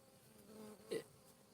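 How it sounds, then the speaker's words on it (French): A faint bee buzz hums steadily, swelling briefly into a louder, closer drone near the end before fading back to a quiet background. "je vous laisse sous surveillance des abeilles"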